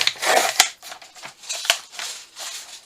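Scissors snip through a paper tab for a junk journal craft, several close crisp cuts with sharp blade clicks at uneven intervals, alone without talk.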